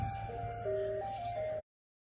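An ice cream truck's melodic jingle plays faintly in the distance as it passes, a steady tinkling tune over low traffic rumble that cuts off abruptly.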